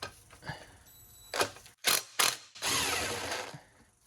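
Ratchet clicking as it backs off a 10 mm bolt on a bracket of a lifted 2007 Jeep Grand Cherokee diesel, with a few quick bursts of close, bright ratcheting between pauses and no talk.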